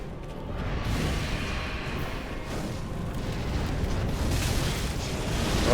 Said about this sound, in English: Don't want to get hit by that fire.